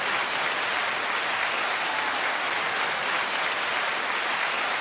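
Audience applause fills the space as a dense, even roar of clapping that stays constant throughout, loud and without breaks or voices.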